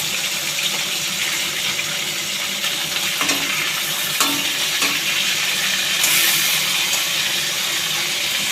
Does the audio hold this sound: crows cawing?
no